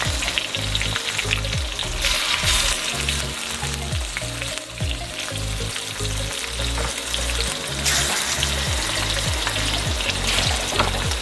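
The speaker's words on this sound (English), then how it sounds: "We're gonna add the pork to our garlic." Pork frying in a pan with garlic for pork adobo, a loud, steady sizzle and crackle of hot oil running continuously throughout, close up, with no talking over it.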